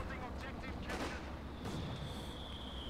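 A sniper rifle shot rings out in Company of Heroes 2, a sharp crack with a brief echoing tail, heard among other distant battle noise in the game's mix, fairly quiet overall.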